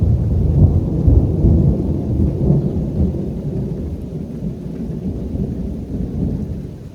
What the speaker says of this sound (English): But you can hear that thunder.